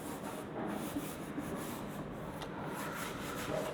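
A duster rubs writing off a classroom board, producing a soft, steady scrubbing and rasping that continues for a few seconds without speech.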